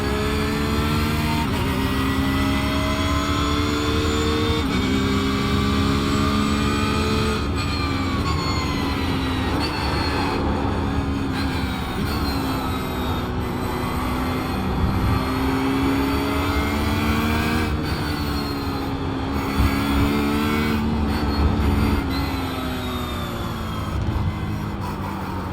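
Porsche flat-six racing engine in iRacing with a strong gearbox whine, revving up and down steadily through gear changes, loud and continuous with no talk.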